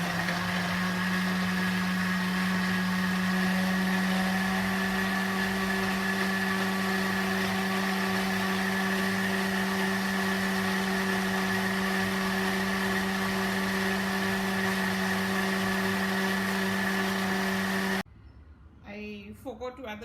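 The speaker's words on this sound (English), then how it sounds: "Everything is in the blender, all the wet ingredients along with the fruit," A blender whirs through wet cake batter with fruit for an eggless chocolate walnut cake, giving a loud, steady motorized hum for about eighteen seconds before cutting off abruptly, followed by a few faint handling noises.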